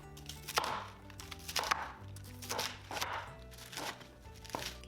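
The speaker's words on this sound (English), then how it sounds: "Cut the NAPA cabbage into 1-inch pieces." A knife chops napa cabbage into 1-inch pieces on a board, about six firm, evenly spaced thuds, close and clear with no talk.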